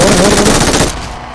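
Loud, close automatic gunfire from the PUBG Mobile game rattles in a rapid burst, then cuts off and leaves a quieter tail.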